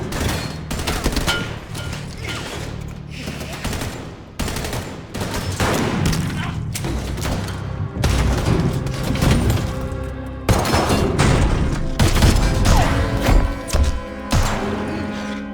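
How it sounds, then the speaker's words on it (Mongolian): Gunfire from a movie shootout between a mafia boss's men and their opponents: dense, continuous bursts of shots and booms with rapid automatic fire, loud and chaotic throughout, with muffled voices mixed in. "Энэвэр мафийн толгойлогч цэргүүдийнхээ хамт ирээд тэдэнтэй буудалцаж эхэлнэ"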